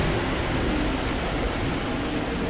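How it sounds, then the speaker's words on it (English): Water vents spray sewage water in the video game Rise of the Tomb Raider, a loud continuous broadband rush and hiss that stays steady throughout with no speech. "there's all these vents spraying poo water everywhere"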